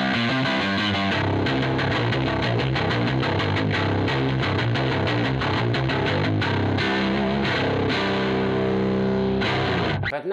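Heavily distorted bass guitar with a gritty, overdriven tone plays a dense riff, loud and continuous with no voices over it.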